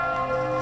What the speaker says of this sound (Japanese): 今鐘が鳴っています。 教会の鐘です。